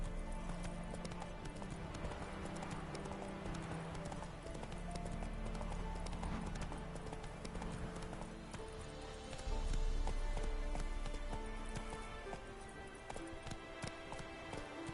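Roach, a horse in The Witcher 3, gallops steadily with rapid rhythmic hoofbeats close by, continuous throughout, with faint ambient patter behind and no speech.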